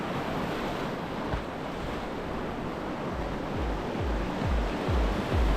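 Cheoah River rushing over rapids, a steady broadband roar of flowing whitewater with occasional low thumps and wind buffeting the microphone, close and continuous throughout.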